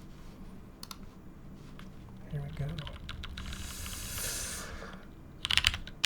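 Typing on a custom Matrix 8XV mechanical keyboard fitted with case foam, a run of muffled key clacks at close range, with brief talk and a few sharper clicks near the end.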